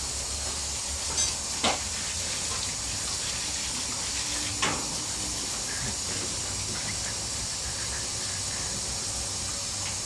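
Water sprays steadily to rinse the bottom of a unit after it has been cleaned with Nu-Calgon Tri-Cleaner, making a continuous close hiss with a few brief splashy knocks and no voices.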